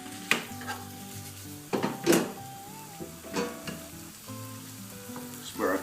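Spicy vegetarian noodles stir-fried in a pan, with steady sizzling and frying broken by bursts of stirring and scraping of utensils against the pan, close and fairly loud, no talking.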